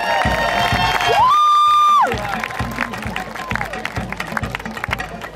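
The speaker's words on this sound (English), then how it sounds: "round of applause" A luau party crowd claps, cheers and whoops for a performer, with music, a long sustained whistle-like tone and voices mixed through the steady roar.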